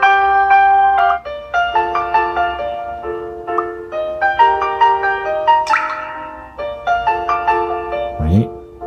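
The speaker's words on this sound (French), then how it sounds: "Donc là, c'est la sonnerie." The built-in ringtone of an Elephone A5 smartphone plays a bright, chiming melody of bell-like notes in a bouncy rhythm, clear and close, with a brief rising swoop near the end.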